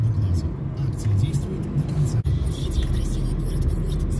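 Heavy weekend car traffic near a river ferry crossing in Kazan, with a railway close by, makes a continuous low rumble of engines and passing vehicles, with a voice faintly audible over it.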